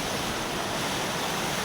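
The Dantodiya river, flooded after heavy rain, rushes past in a loud, steady roar of churning water, broad and unbroken, with faint wind buffeting and no talking.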